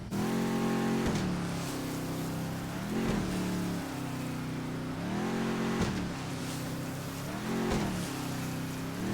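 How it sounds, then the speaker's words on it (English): Twin V12 boat engines in the GTA 5 video game labor through heavy waves. The droning engine rises and falls repeatedly in strained surges, loud and steady throughout with no talking. "That is the sound of a very sad twin V12 setup really getting hammered by the heavy waves"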